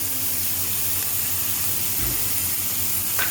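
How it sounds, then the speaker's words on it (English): Onion and chilies hitting hot oil while making Indonesian nasi goreng, a continuous broad hiss of sizzling, steady and close, with a short low thump midway and no talk. "Now the oil is hot. And I'm going to put in the onion"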